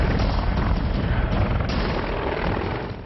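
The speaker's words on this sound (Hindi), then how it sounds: "ये है हिंदुस्तान का एडवांस लाइट हेलीकॉप्टर यानी AHL।" An Advanced Light Helicopter flies close by, its loud, dense rotor and engine roar steady throughout with rapid blade chop and no voices.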